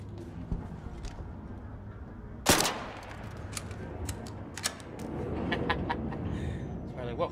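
Video game gunfire crackles in short bursts, one sharp loud shot followed by scattered quieter rapid pops further off, with a voice speaking over part of it.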